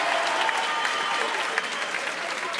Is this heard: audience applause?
yes